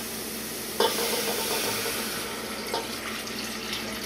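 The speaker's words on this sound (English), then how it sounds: "We're going to put in our 4 cups of water." Four cups of water poured from a container into a pot of cornmeal in a home kitchen, a steady splashing stream running the length of the clip with a sharper splash at the start, close and clear, no talking.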